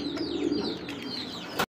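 A pair of white pigeons at a pigeon-breeding farm coo with a low, steady warble, close by, mixed with faint higher chirps and a soft rustle at the end.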